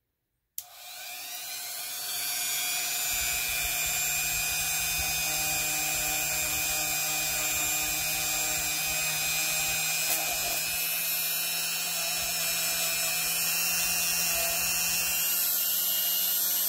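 A rotary polishing tool buffs tarnish from an antique Victorian silver bottle top on a dug cut-glass bottle, whining steadily and loudly for over fifteen seconds after switching on, with a constant high pitch and low hum.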